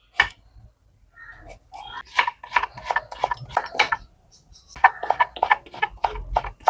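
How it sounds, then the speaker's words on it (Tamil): Vegetables for aviyal are sliced into long pieces, with irregular rasping knife strokes against a board, close and moderately loud, in bursts separated by brief pauses. "இதையும் நீளமாக தான் கட் பண்ணணும்"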